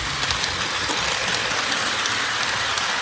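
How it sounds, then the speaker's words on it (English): A Polar Express model train set running on its track beneath a Christmas tree makes a steady, hissing rush with faint rhythmic clicks, continuous and close with no speech. "This is a video of my Polar Express train"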